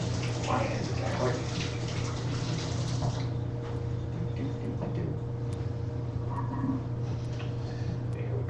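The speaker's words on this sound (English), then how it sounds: "Quick wash of your hands." A kitchen tap runs steadily as hands are quickly washed while cooking chili lime sweet potato oven fries, a continuous close splash that softens partway through.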